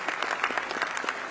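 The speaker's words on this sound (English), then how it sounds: "Ladies and gentlemen, a round of applause for Damongo Senior High School." Applause breaks out for a senior high school team at a renewable energy competition awards event, a dense, steady clatter of many hands clapping close by with no voices over it.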